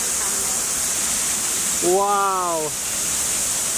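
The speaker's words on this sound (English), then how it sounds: "So we're walking to the waterfall now. The waterfall's just here." A Rotorua waterfall running full after heavy rain gives a loud, steady rushing roar close by, while a voice briefly exclaims over it.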